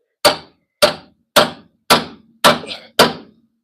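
A hammer strikes the pitman arm of a 1987 Dodge Ram 50 steering linkage, six loud, sharp metallic blows at a steady rhythm, each ringing briefly before the next, close by with no talk.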